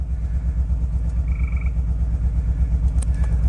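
A 2011 GMC Yukon Denali Hybrid SUV engine idling with a low, even rumble and a rhythmic pulse, an exhaust leak present, steady and close throughout, with a brief faint high tone partway through.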